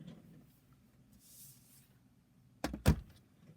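A die cutting machine pressing a card through with a brief loud mechanical clunk and grinding roll near the end, close by in a quiet crafting room.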